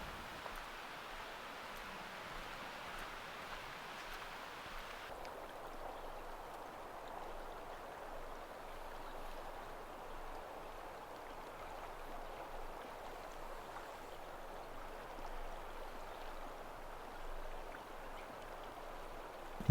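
The Metolius River flows steadily past Lower Bridge Campground, a continuous, even rush of moving water heard alone at moderate distance, with its texture shifting slightly partway through.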